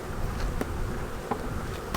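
Honey bees buzz densely around an edge frame pulled from a hive in an apiary, a close, steady droning hum with a few brief louder passes.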